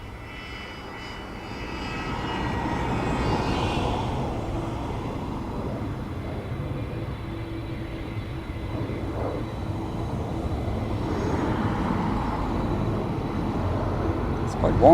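Aer Lingus airliner at Dublin Airport with a steady, fairly loud jet engine roar that rises slightly and holds throughout, with light talk underneath.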